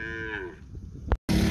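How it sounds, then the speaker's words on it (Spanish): A cow in a pasture gives one close, loud low moo that fades out, followed by a brief rustle and a sudden burst of wind or handling noise. "aquí están las vacas en su nueva pastura"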